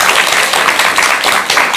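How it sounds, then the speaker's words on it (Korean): Audience at a Buddhist lay preacher's talk breaks into steady applause, a dense continuous wash of many hands clapping close and loud with no gaps. "이럴 때 박수 한번 드리세요."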